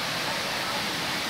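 Waterfall at Maden creek as a loud, dense, unbroken roar of falling water, close and steady throughout.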